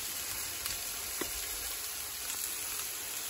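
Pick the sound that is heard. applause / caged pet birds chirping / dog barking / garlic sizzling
garlic sizzling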